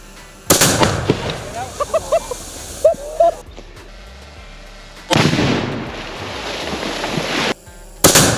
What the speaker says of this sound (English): We got a beaver dam we're fixing to blow up. We got tannerite in a pipe.